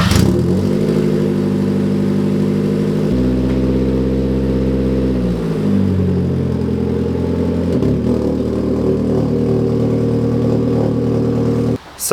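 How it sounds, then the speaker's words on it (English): A rare four-wheel-drive Mazda engine with its muffler unbolted revs up loud and raspy, holding high, dropping back and rising again in a continuous close run of throttle blips. "given it a bit of bogan and unbolted the muffler"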